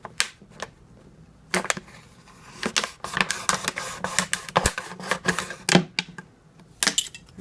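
A plastic bottle is cut around below the neck, giving a close series of sharp crunching snips and crackles at an uneven pace, with no voices.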